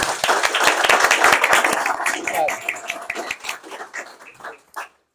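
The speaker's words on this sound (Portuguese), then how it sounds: "Salva de palmas para Érica" Audience applause at a digital marketing talk, a burst of many hands clapping that starts loud and dense, then thins into scattered claps and fades out.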